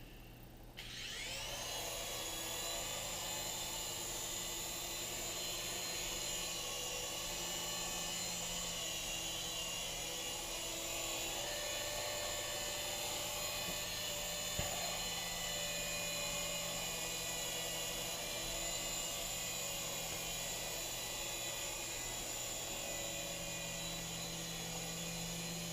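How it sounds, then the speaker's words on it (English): A Swann Micro Attack indoor RC helicopter flies around a house, its steady high-pitched whine of tiny rotors and motor holding at close range for the whole stretch, with no voices. "Fly my little helicopter all the way around the house."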